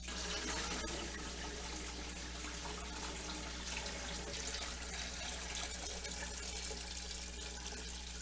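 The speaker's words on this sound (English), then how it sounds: "we're just going to let that finish draining" Homemade chicken stock drains steadily through a strainer lined with cheesecloth, producing a continuous, even trickle and hiss of running liquid with no pauses.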